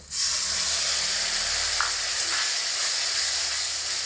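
Loud steady sizzle and hiss as a little water is poured into ground green chili, ginger and cumin-pepper paste frying in a pan for a long-bean curry, continuous and close throughout.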